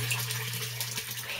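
Water trickles and splashes softly and continuously in a barrel aquaponics system holding fish, faint and close, with a low steady hum beneath it.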